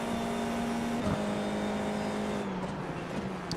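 F4 race car in iRacing, its engine droning steadily at high revs as it brakes into a right turn, pitch dipping slightly toward the end.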